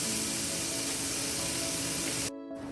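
Oxtail pieces steaming in a covered pot, seasoned for curry, give off a steady, loud hiss that runs unbroken and then cuts off sharply near the end, leaving a quieter hiss behind.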